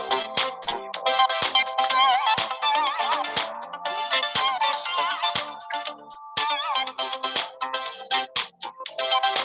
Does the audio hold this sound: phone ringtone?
yes